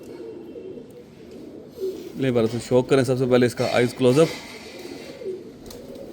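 A main breeder pigeon coos close to the microphone, a run of rolling, throaty coos lasting a couple of seconds, with someone speaking before and after.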